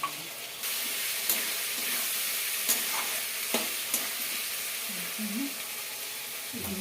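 Cumin seeds frying in hot oil for a vegetarian Bengali pea ghugni, crackling in a steady broadband sizzle with intermittent scrapes of a spoon stirring the pan, close and fairly loud throughout.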